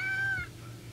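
In a Roblox simulator game, a cat gives one short, clear meow, close and alone with no talk.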